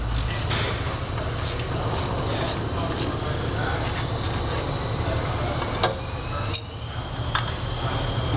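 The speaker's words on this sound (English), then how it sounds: "I'm going to take the nut off with a 14 mil socket." A 14 mm socket removing a sway bar link nut on a Nissan 350Z: a continuous mechanical whirring of a power tool, with a rising whine toward the end and a few knocks, close and loud.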